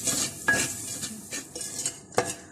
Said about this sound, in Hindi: नमक और काली मिर्च इसमें डाल देंगे, हरा धनिया, हरी मिर्च इसमें डाल देंगे और अब बहुत अच्छी तरह से इसको मिक्स कर लेंगे।